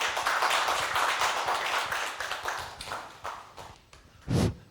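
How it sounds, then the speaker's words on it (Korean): An audience applauds in welcome at a lifelong-learning lecture event in Gwangju, dense clapping that thins out toward the end, with a last louder burst near the close. "여러분 큰 박수로 환영해 주시기 바랍니다."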